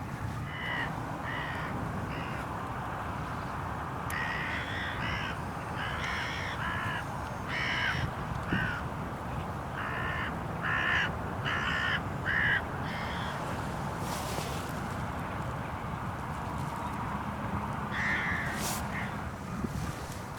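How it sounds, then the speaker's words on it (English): Hooded crows caw in the early morning countryside, a couple of birds giving repeated harsh calls at moderate distance over a steady background hiss, with no talking. "Finally though, a couple of crows settled in the clear."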